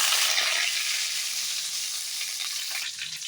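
Mustard seeds and curry leaves sizzling vigorously in hot oil in a pan, a loud, continuous bright hiss with faint crackles, close by and with no talking.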